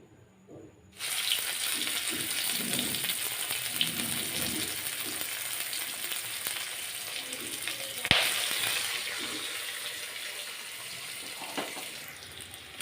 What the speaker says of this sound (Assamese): এতিয়া মই নহৰুখিনি দি দিওঁ তেলত।